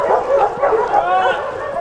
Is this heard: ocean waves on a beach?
no